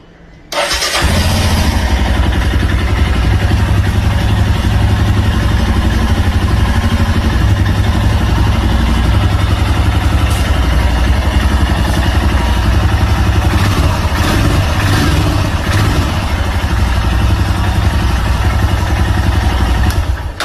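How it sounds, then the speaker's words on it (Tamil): Royal Enfield Himalayan 411 single-cylinder motorcycle starts with a sharp catch, then settles into a loud, steady thumping idle beat heard up close for about twenty seconds with no talking. "1 மந்த் கழிச்சு அந்த பீட் கேட்குறதுக்கு வேறு லெவலாக இருக்குது"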